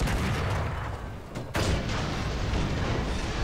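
A Sherman Jumbo tank's cannon fires in War Thunder, a single heavy boom at about one and a half seconds rising out of a steady low engine rumble and battlefield noise, followed by a long decaying roar.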